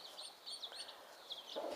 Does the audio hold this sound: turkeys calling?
yes